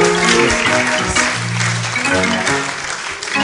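An audience applauds a new president at a presidential investiture, with dense, loud, sustained clapping filling the whole moment.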